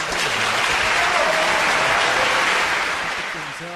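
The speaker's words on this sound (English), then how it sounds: "Let's give a little round of applause to them." A live audience breaks into a sustained round of applause, a dense, steady wash of clapping that stays loud throughout and starts fading near the end, with faint voices calling out underneath.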